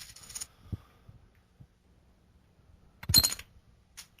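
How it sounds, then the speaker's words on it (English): A coin flipped by hand, giving a couple of short metallic chinks and a brighter ring near the end, close and clear against near silence. "it's a coin, and I'm flipping it."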